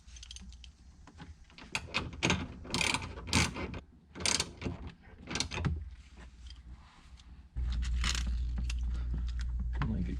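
A hand ratchet works loose the bottom bolt of a Honda Fit seat belt adjuster in quick bursts of sharp clicking strokes with short pauses, close up, then a steady low hum takes over near the end.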